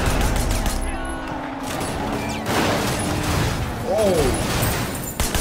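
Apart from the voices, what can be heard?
gunfire shooting car tires in video game Sleeping Dogs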